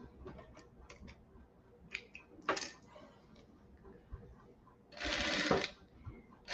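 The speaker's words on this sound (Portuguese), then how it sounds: "Vou costurar aqui agora no outro." A sewing machine stitches fabric for shorts with a ruffled pocket, heard faintly as scattered ticking clicks and a short whirring run near the end, with no voices.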